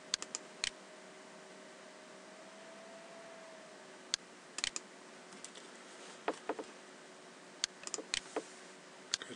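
Computer keyboard and mouse clicks while working in ceramics modeling software, scattered sharp clicks in small clusters over a faint steady hum.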